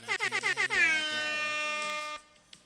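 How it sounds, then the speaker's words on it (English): An air horn blasts in several quick stuttering honks, then holds one long loud blaring tone before cutting off abruptly. "air horn all the way"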